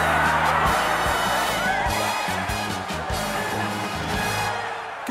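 A cartoon crowd of football fans cheers and whoops loudly for a band in a stadium, a dense, continuous roar of voices with scattered shouts that eases slightly toward the end.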